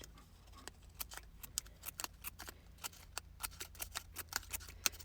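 Scissors snip a fringe into the end of a sheet of paper, a steady series of sharp, close, quiet clicks about every quarter second over low background hum, with no talking.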